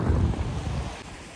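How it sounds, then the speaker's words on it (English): Strong, gusty wind during a winter snowstorm buffets the microphone with a loud, steady low rumble and roar throughout, with no speech. "So it's really windy."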